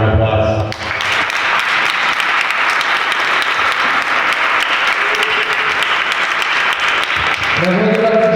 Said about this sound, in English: We could give a round of applause.